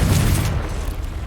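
A Confringo blasting spell bursts in Hogwarts Legacy, a single short, heavy boom with a dense rumbling crackle that fades within about a second.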